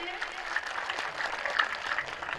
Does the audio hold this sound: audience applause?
yes